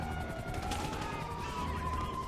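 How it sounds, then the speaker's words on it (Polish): Police gunfire during a casino heist in GTA 5: scattered gunshots crack at a distance over a wailing police siren, with a faint voice underneath. "To już policja zaczęła do nas strzelać, teraz będą nas obijać."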